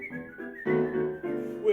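Whistled melody during a song recital of Vaughan Williams music, a clear tuneful whistle moving through several sustained notes in phrases, close and alone.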